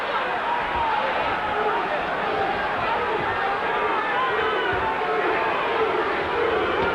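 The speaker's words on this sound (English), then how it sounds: "Crowd chanting Duke, Duke, Duke." Boxing arena crowd during a heavyweight bout, a dense, steady roar of many voices chanting and shouting, loud and continuous throughout with no pauses.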